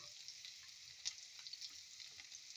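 Red onions go into a hot frying pan and sizzle steadily, a faint hiss with light stirring clicks, no talking.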